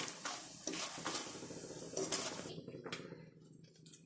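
Cashews frying in ghee in a pan while making flaxseed laddu, a soft steady sizzle under clinks and scrapes of a metal utensil against the pan.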